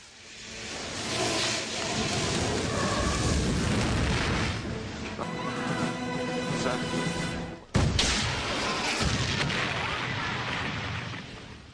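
An explosion blows the Judge apart in Buffy the Vampire Slayer, a long roaring blast with a sharp boom near the middle, loud and close, over a rumbling background with voices underneath.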